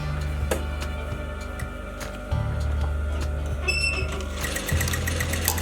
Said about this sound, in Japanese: 出来上がりの位置よりも気持ち縫い代側を縫ってやります。